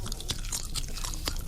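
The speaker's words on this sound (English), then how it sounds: "Sound like you chewing those chunks." Gum being chewed close to a microphone, with rapid wet smacking and clicking in an irregular rhythm, fairly loud and alone.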